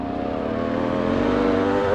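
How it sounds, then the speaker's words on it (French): An off-road motorcycle gives a high, buzzing, wasp-like whine, steady and rising slightly in pitch over a couple of seconds, close and moderately loud with no talk over it. "Elle fait vraiment ce bruit là sa moto, hein, une vraie guêpe."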